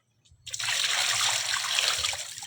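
Tap water runs steadily while fish are washed in a home kitchen, a close, continuous splashing stream that starts abruptly after a brief pause.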